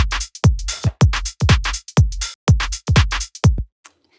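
House-music drum samples play in a triplet groove: eight punchy kick-and-hat hits in a steady bouncing rhythm, loud and close, ending abruptly with no one talking.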